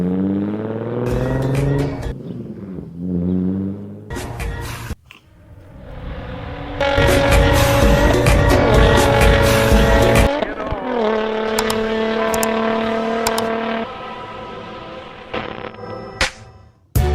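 Nissan 350Z engine revving hard in several bursts, with rising and falling tones, sustained high revs and short squealing tire noises, loud and close, interrupted by brief pauses.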